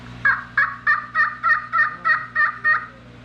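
Choctaw custom turkey call worked to imitate two hens talking back and forth, giving a close, loud series of about nine evenly spaced raspy yelps with no voice over them.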